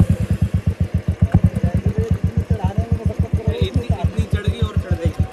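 A motorcycle engine labors up a steep off-road slope, a loud close, rapid pulsing thump that holds steady throughout, with people shouting encouragement under it.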